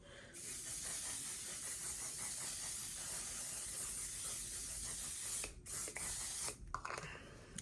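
A long, continuous mist of makeup setting spray hisses steadily, then breaks off into a few short bursts near the end.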